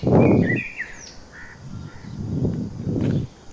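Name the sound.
sparrows chirping in a village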